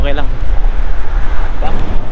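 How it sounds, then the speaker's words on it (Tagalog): Loud, buffeting wind gusts hitting the microphone up close outdoors in Dubai, with a voice talking over the blustery rumble. "Kahit na medyo mahangin-hangin ng konti"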